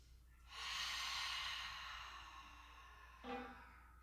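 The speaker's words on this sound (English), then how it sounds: "we're going to inhale in through our nose and do a nice audible exhale out the mouth" An audible breath exhaled out through the mouth during a seated desk yoga break, a long breathy rush lasting about three seconds, close and fairly loud, followed by a short softer breath.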